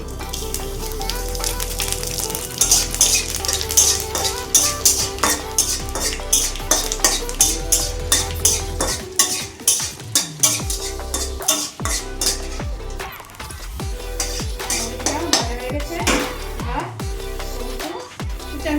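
Fennel seeds hit hot oil in a wok along with fried dried chillies and bay leaf, giving a steady sizzle broken by repeated metallic clinks and scrapes of a spatula stirring against the pan.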